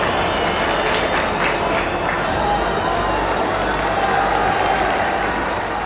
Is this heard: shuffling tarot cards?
no